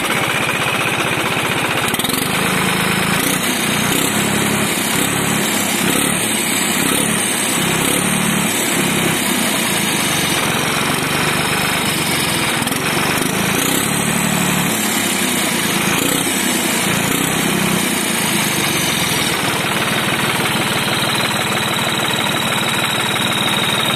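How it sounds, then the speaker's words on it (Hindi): A Farmtrac 60 tractor diesel engine fitted with a turbo runs loud and steady throughout, with a dense, knocking mechanical drone, a rising whine and uneven throbbing pulses in the low end, and no voices. "पावर बढ़िया बढ़ रही है ट्रैक्टर की, बढ़िया काम कर रही है टर्बो में"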